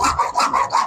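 Hacksaw frame rasping against plastic drain pipe during kitchen sink plumbing, a rhythmic series of about five quick strokes, close and fairly loud with no talk.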